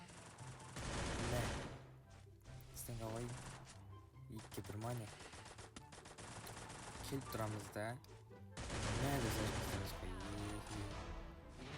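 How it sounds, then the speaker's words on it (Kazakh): Rapid bursts of gunfire in the Free Fire battle-royale game, loud and dense at the start and again near the end, with a player talking over the shooting in between. "Атыс болып отыр, барайын да."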